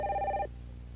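A telephone bell rings in a dramatic scene, one short bright ringing burst that cuts off abruptly after about half a second, leaving a low hum beneath.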